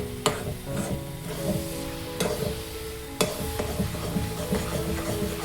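A spoon steadily stirs a grated coconut mixture cooking in a pan, scraping and sizzling continuously with a few sharper knocks against the pan, close and moderately loud with no talk.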